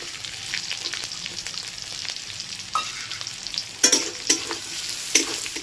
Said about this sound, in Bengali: পেঁয়াজ নিয়েছি একটা বড় সাইজের, কুচি কুচি করে, সব একসাথে ভাজবো।